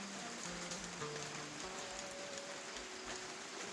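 Rain falls steadily outdoors on an early morning by the water, a constant soft hiss of drops on surfaces with no talking.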